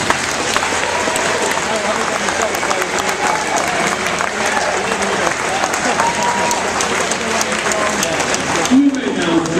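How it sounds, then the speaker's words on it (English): Students at a FIRST Robotics competition give a long, steady round of applause, dense clapping filling a large hall with crowd voices mixed in. "I'd like your students at this time to give you a round of applause"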